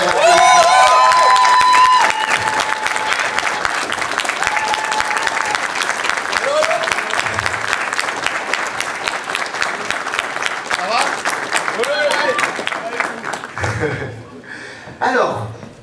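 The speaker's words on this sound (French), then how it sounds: "Avec un tonnerre d'applaudissements." Thunderous audience applause welcoming guests on stage at a live show, loud sustained clapping with some cheering and laughter, thinning out near the end as a voice begins to speak.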